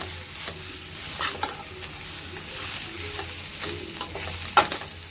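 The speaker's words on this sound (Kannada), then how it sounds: "ಇದನ್ನು ಈಗ ನೀಟಾಗಿ ಮತ್ತೆ ಫ್ರೈ ಮಾಡ್ಕೋಬೇಕು" Onion and garlic stir-fried in a pan, a spatula scraping and tossing in repeated strokes over a constant sizzle, close by with no talking.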